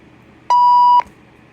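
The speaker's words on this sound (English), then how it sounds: "hold the button until you hear the long beep." A RadioShack 12-260 weather radio gives one long, clean electronic beep of about half a second, loud and steady against a quiet background.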